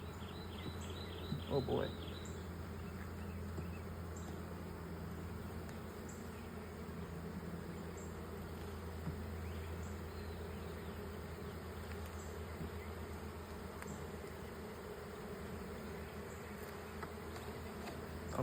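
Honey bees buzz continuously around an open white hive, a soft steady drone with individual bees passing close, while a person briefly exclaims near the start.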